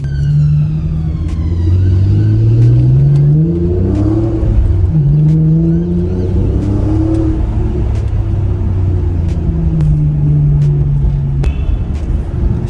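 A BMW engine revving up and down through its gears as it drives on new tyres, with a loud steady road rumble and shifting pitch.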